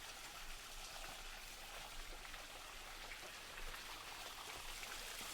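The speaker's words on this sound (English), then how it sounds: "So we have these waterfalls" Garden waterfalls send a steady, soft hiss and patter of running water, continuous and even throughout, with no voices.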